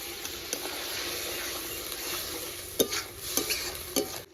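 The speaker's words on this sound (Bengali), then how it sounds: "এবার পরিমাণ মতো জল দিয়ে দেবো" Prawns frying with spices sizzle steadily in a pan as water is poured in, with a few sharp clinks of a utensil toward the end.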